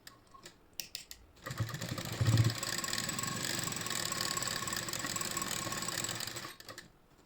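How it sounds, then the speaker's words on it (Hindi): A sewing machine stitches the sleeve of a kurti made from an old saree, starting after a few clicks and handling noises, then running in a steady close whir for about five seconds before stopping. "तो यहाँ स्लीव से हम सिलाई मारने वाले हैं इसमें।"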